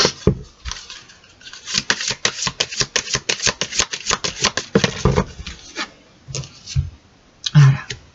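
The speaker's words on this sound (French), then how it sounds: "Je vais tirer une autre carte." Tarot cards are shuffled and handled nearby in a quick run of crisp flicks and riffles, then slow to a few scattered taps and slides as a card is drawn from the deck.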